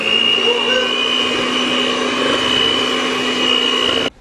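Electric mixer stirring an egg mixture with salt, a steady loud whirring drone with a high whine that holds evenly, then cuts off abruptly near the end.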